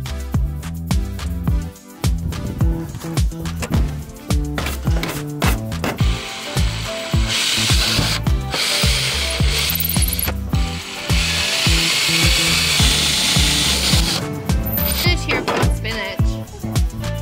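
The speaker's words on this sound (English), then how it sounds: "Almost done with the pre-drilling" A power drill pre-drilling holes in a van roof whirs in repeated short bursts, pausing between holes, with clicks and handling noise and occasional voices nearby.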